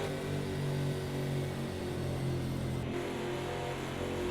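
Porsche race car engine at Bathurst in Australia in Project Cars 2, a steady loud mid-pitched drone with a brief dip near the end, close and continuous with no talk.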